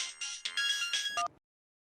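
A mobile phone ringtone for an incoming call from mother, a bright electronic melody in short repeated phrases that stops abruptly after little more than a second.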